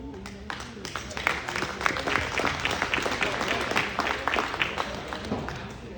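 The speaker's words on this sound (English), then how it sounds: "give these exhibitors in the senior division a round of applause" An audience at a local livestock show claps for the senior division exhibitors, a lively patter of many hands from a moderate-sized crowd, steady over several seconds with faint voices mixed in.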